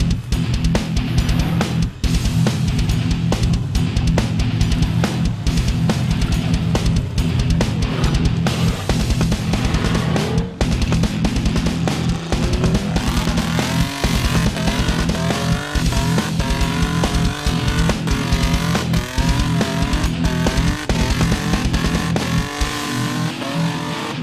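An off-road vehicle with hydraulic rear steering climbs an aggressive, muddy trail. Its engine revs loudly and rises and falls in pitch, with sharp cracks and impacts as it struggles upward at close range.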